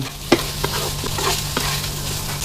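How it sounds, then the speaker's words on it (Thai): Rice being stir-fried with sugar in a pan for canned-fish tom yum fried rice: a steady sizzle broken by a few sharp scrapes and taps of the spatula, close, with no talking. "ให้เราใส่น้ำตาลทรายลงไป แล้วผัดให้เข้ากัน"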